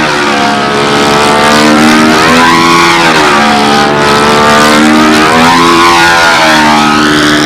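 A P-51 Mustang's engine roars wide open through a bare pipe with no muffler, loud and continuous, its pitch sweeping up and down as it passes near, with no voices.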